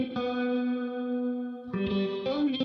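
A guitar tone in a beat production plays with reverb and chorus-like effects, sounding as a sustained, shimmering held note that stops abruptly before a few shorter processed notes, clean and close with no voices.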